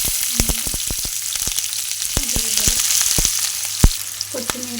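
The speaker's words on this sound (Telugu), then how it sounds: "కొత్తిమీర, కరివేపాకు ఇవన్నీ వేసుకొని ఉల్లిగడ్డలు కొంచెం గోల్డ్ కలర్ వచ్చే వరకు వేగనివ్వాలి" Onions, coriander and curry leaves fry in oil in a pan for fish pulusu, with a loud, steady sizzle broken by sharp spatula taps and scrapes, heard up close with no voice.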